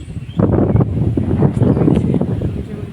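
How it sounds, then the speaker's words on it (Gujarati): Gusty wind blows across a rooftop terrace on a rainy day, buffeting the microphone in rough, uneven rumbling bursts close by. "કેટલું મસ્ત પવન આવે છે ઉપર"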